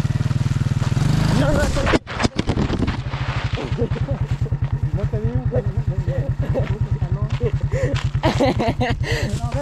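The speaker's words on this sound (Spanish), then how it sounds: "De allá, donde estaba manejando la moto" A motorcycle engine runs steadily with a low, pulsing beat while being ridden by an elderly learner, rough revving rising near the start, with people talking loudly over it throughout.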